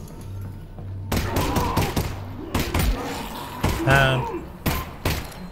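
Shotgun shots in the VR video game Half-Life: Alyx come as a few sharp, loud booms spread across a few seconds, with a voice speaking between them.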